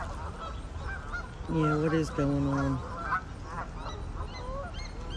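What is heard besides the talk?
geese honking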